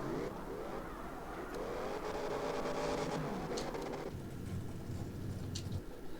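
A V8 drift car engine in CarX Drift Racing Online 2 revs hard and raspy, climbing in pitch with repeated throttle stabs before dropping to a rougher, lower growl, loud and close throughout.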